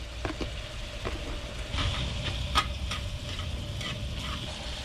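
Diced shrimp simmering in a pot of spiced liquid, a soft steady bubbling hiss with a few scraping stirs and light clinks against the pot, close and fairly quiet.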